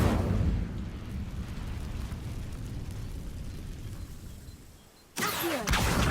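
Incendio fire spell cast in the Hogwarts Legacy video game, a loud roaring burst of flame that rumbles on and slowly dies down, followed by a sudden sharp crackling flare near the end.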